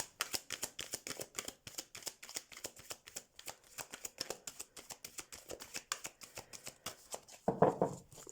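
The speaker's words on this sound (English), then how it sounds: "Give them a good shuffle for you." Rapid, crisp riffling of a deck of cards, repeated in quick bursts for several seconds, close and clear, ending with a slightly louder shuffle.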